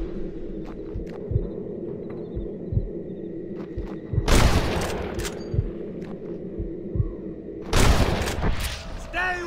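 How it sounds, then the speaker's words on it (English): Sniper rifle shots in Red Dead Redemption crack out as two loud, broadband bursts several seconds apart. Game ambience and a low rumble sit beneath them, and a voice calls out between the shots. "Look out! There are them snipers!"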